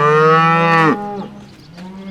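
Cattle on a farm give one long, loud, nearby moo that ends abruptly, then a fainter second call follows after a short pause.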